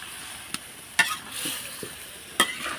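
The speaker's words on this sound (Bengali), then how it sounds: "মশলাটা আর মাংসটা ভালোভাবে এখন মিক্সড করে নেব" Beef head meat and spices are stirred together in a sizzling pan, with a few sharp utensil scrapes at irregular intervals over a steady frying hiss, close by and without talk.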